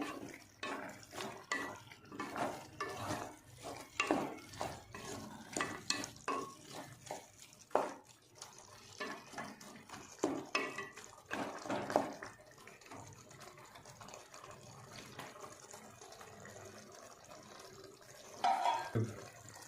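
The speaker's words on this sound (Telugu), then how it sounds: "బాగా అంతా ఇట్లా కలుపుకొని" Chicken fry being stirred in a pan, with repeated scraping and clinking of a spoon against metal in irregular bursts, close and moderately loud, plus light sizzling between strokes.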